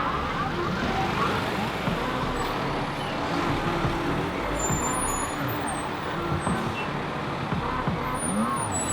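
Road traffic rolls past in a steady, loud wash of tire and engine noise, with trucks among the vehicles and a few faint high squeals like brakes; no talk is heard.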